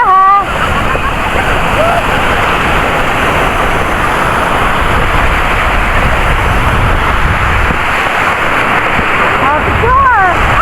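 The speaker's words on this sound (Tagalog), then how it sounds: "Lakas pa naman ang alon." Strong sea waves crash and splash continuously at a swimming beach on Lantau Island, a loud, steady wash of surf with excited voices shouting over it near the start and end.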